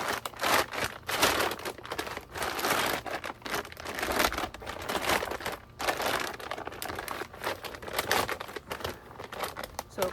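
A white recycled plastic bag, cut down to size for a grow bag, is handled and turned inside out, giving continuous loud, close crinkling and rustling in uneven bursts with no speech.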